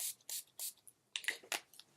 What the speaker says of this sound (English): I'm just going to spray my face with my NYX primer spray.